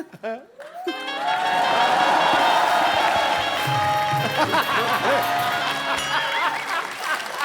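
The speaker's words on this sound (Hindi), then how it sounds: "तालियां बजाना।" A studio audience at The Kapil Sharma Show claps and cheers in a dense, sustained wash lasting several seconds, mixed with music and voices.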